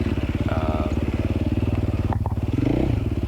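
A dirt bike engine held in first gear during a hard enduro race, its steady close-up pulsing drone pounding continuously with a brief clutch-slipping surge and rise in revs near the end.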